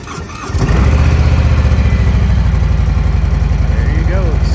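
A stock 2018 Harley-Davidson Softail Street Bob engine cranks and catches after a short pause, then settles into a loud, steady, throbbing idle up close.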